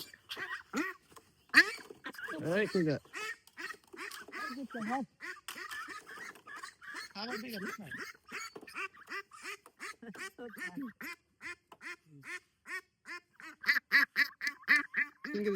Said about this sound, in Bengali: এটা হচ্ছে আমাদের লাস্ট হাঁস